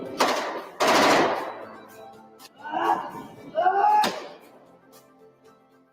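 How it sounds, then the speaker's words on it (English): A Thompson submachine gun fires in short bursts, close and loud rattling volleys separated by pauses, with a voice speaking in between. "The Thompson, the Tommy gun, this is the most iconic kind of weapon of that era."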